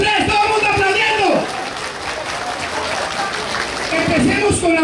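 An audience at a New Year's Eve farewell party applauds in bursts, with a voice talking over the clapping throughout.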